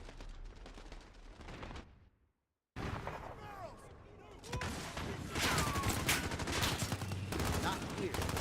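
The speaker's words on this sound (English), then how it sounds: "Where are they shooting from?" Gunfire from a Call of Duty Modern Warfare match: dense bursts of rifle and automatic fire crackle, break for a moment of silence, then return louder and more sustained, with a voice talking under the shooting.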